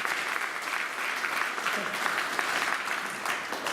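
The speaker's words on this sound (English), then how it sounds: "Give them a round of applause for volunteering." Conference audience applauds volunteers at a sports science talk, a steady dense wash of clapping that holds for the full few seconds at moderate loudness.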